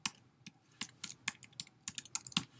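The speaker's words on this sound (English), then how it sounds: "And I can type anything I want here." Quick, light keystrokes on a computer keyboard, about two dozen irregular clicks close up over a quiet background with no voices.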